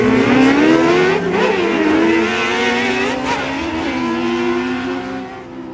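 Three Jr Sportsman race cars set off at the start of a six-lap heat at Good's Raceway, producing a loud, continuous engine roar that wavers in pitch as the cars accelerate together.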